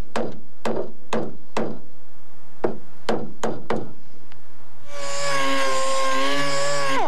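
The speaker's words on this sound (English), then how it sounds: "straighten this edge, and we'll use a rubber hammer." A rubber hammer strikes the dented edge of a Beretta car body in a series of sharp, close knocks, about eight blows at uneven intervals, followed by a brief pause and then a loud, buzzing mechanical tone.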